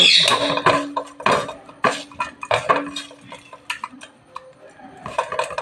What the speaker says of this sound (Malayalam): എന്നിട്ട് ഇത് നന്നായി മിക്സ് ചെയ്തു. നന്നായി മിക്സ് ചെയ്യണം കേട്ടോ.